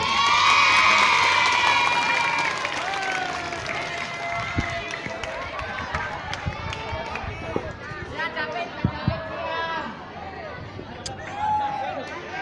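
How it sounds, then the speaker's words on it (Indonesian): At a high school student council candidate debate, a crowd of students claps and cheers for the first candidate, with shouting voices and excited chatter mixed into the noisy, lively applause. "Tepuk tangannya."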